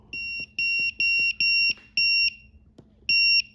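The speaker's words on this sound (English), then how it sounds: "We can listen to our alarm go off." A TickTime Pomodoro timer alarm goes off with a run of piercing electronic beeps in short, even bursts, a pause, then one more beep. Soft clicks and handling noise sit underneath.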